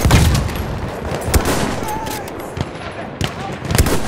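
Battlefield 1 gameplay with sharp bursts of machine gun and rifle fire and distant booms across a noisy battlefield, voices calling out over the shooting.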